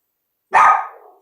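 A single loud, close dog bark, sharp at onset and trailing off quickly, heard alone against silence.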